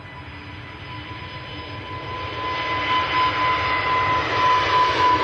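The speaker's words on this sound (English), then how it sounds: "Catch this Easyjet departing then. Yep, Easyjet to Berlin." An EasyJet Airbus A320neo departs Manchester Airport, its steady engine roar building gradually and swelling louder toward the end, with a thin high whine running through it and no voices.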